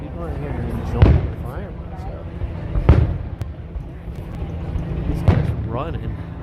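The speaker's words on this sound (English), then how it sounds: "People are here enjoying the fireworks." Fireworks at Hollywood Studios, Walt Disney World, boom at a distance: three deep thuds a couple of seconds apart, heard under ongoing crowd chatter and nearby talk.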